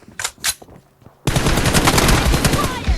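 Gunfire in the mobile battle royale game PUBG Mobile, two sharp shots followed by a dense, loud burst of rapid automatic fire that continues to the end.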